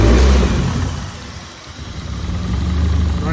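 A Honda Civic EK with a turbocharged K24 engine runs just after its first start, a loud, close, rough idle with a slight dip and swell in level and no revving.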